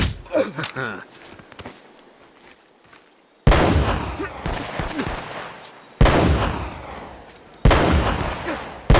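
Video game gunfire in Uncharted, loud bursts of automatic shots and fusillades erupting in repeated waves after a quieter stretch, with footsteps and brief voices mixed in.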